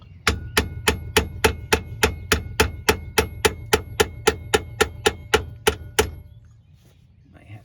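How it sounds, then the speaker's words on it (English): A hammer taps a tie rod end down into the steering knuckle hole on a 2007 Cadillac DTS, about twenty sharp, evenly spaced metallic strikes close up over a low hum, then stopping. "take your hammer and you're going to tap it down in the hole."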